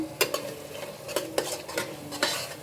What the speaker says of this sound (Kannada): ಸೊ ಅಲ್ಲಿವರೆಗೂ ಚೆನ್ನಾಗಿ ಫ್ರೈ ಮಾಡ್ಕೊಳ್ಳಿ.